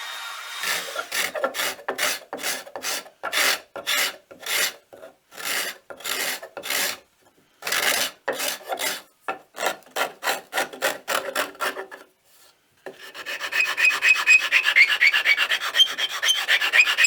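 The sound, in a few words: router cutting a recess into a wooden speaker stand base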